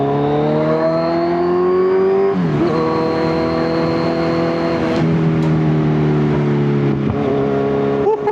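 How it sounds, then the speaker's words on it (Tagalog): Kawasaki Z1000 motorcycle revving loudly up close, a strong steady engine drone with rising and falling pitch, abrupt throttle changes and sharp cracks that suggest exhaust backfire. "Grabe yung backfire, no?"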